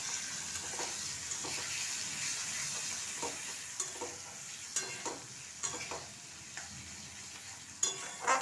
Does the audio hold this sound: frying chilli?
yes